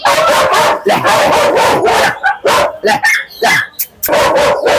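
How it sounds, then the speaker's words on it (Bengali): A healthy, active male German Shepherd barks loudly and close by in a quick volley of deep barks, followed by shorter choppy yips and whimpers. "বিশ হাজার টাকায় মধ্যে জার্মান সেবাটি নিতে পারবেন সম্পূর্ণ ছেলে বলে একটা সুস্থ কুকুর অ্যাক্টিভ কুকুর"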